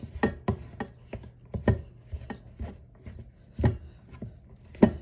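Pie crust dough being mixed by hand in a bowl, giving a series of crisp, irregular scraping and crumbling strokes, close and fairly soft, with brief pauses between them and no talking.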